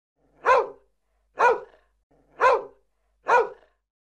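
Four sharp dog barks at an even pace, roughly one per second, close and loud with clean silence between each, no voices.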